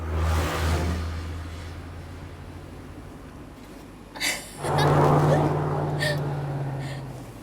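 A car engine hums steadily while driving, swelling into a louder rev partway through, with people talking briefly over it.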